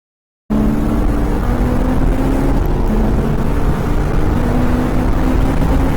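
Car engine under acceleration, from a Corvette C5 Z06 or a supercharged Honda S2000, starting abruptly after a short silence, then a loud, steady drone with a slowly rising tone.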